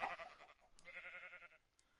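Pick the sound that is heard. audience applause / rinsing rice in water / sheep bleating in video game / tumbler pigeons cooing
sheep bleating in video game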